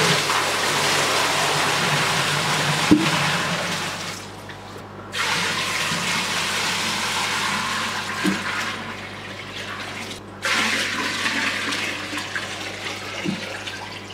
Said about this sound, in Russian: давайте погрузим эту помпу в воду и посмотрим,